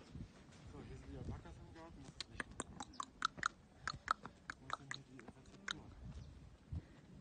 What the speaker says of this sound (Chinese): 一直在吃